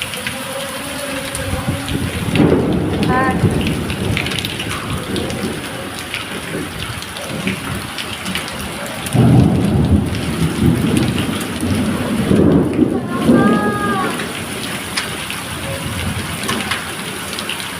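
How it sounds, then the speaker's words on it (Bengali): Hailstorm in Kharagpur with steady heavy rain and hail rattling on surfaces, and rolling thunder swelling up around the midpoint and again near the end; a voice briefly speaks. "শিলাবৃষ্টি হচ্ছে, শিলাবৃষ্টি। দাও দাও টুক দাও করে শিলা পড়ছে।"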